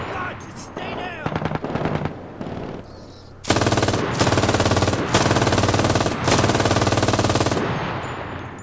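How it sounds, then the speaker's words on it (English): Video game gunfire: a few scattered shots, then long sustained bursts of loud rapid automatic fire, harsh and close, with short pauses between volleys. "Who's shooting over here?"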